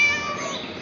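A cat in the video game Scary Teacher 3D gives one short, loud, close meow that tails off, with no talk.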